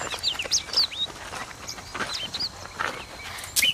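In a 2017 Lifetime movie, small birds chirp in a scatter of short, high tweets and quick rising calls, moderately close over faint outdoor ambience, with no talking.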